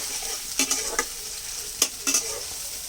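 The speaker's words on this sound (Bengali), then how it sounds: "যে পেঁয়াজটা কুচি করে নিয়েছিলাম, এটা বেরেস্তা করে নিচ্ছি" Sliced onions sizzle steadily in a pan with a constant frying hiss, punctuated by several sharp scraping stirs of a utensil.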